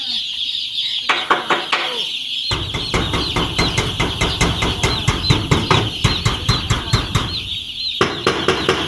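Day-old chickens in a brooder cluck and peep close by in a dense, steady stream, with quick rustling and scuffling bursts throughout.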